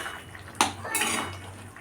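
A metal lid is lifted off a pot of boiled potatoes, one sharp clank followed by a brief scraping rattle, then a low steady background hum.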